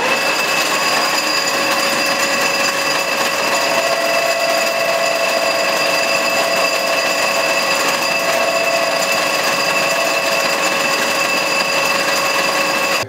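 A metal lathe takes a final turning cut to bring a part down to 25 mm diameter, giving a steady, loud mechanical whine with sustained tonal hum and no pauses.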